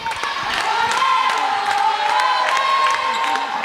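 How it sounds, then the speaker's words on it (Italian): Fans cheering inside the Palaviena during a women's Serie A2 playout basketball game, San Salvatore Selargius against Virtus Cagliari, a continuous roar of crowd noise with sneaker squeaks and ball thumps on top. "Il tifo del Palaviena"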